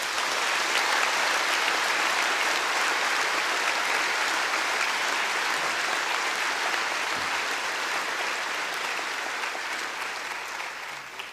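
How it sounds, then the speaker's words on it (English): An audience at an oath-taking ceremony for successful 2022 Bar passers gives sustained applause, a dense, even roar of many hands clapping in a large hall that fades slightly toward the end. "Please, a round of applause for all of them."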